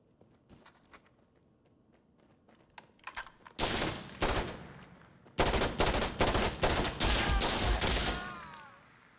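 Rapid bursts of gunfire in Insurgency: Sandstorm with the ISMC mod: scattered sharp shots at first, then loud sustained automatic volleys, close and dense, with no talking over them.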